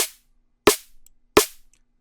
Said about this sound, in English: the snare sounds like this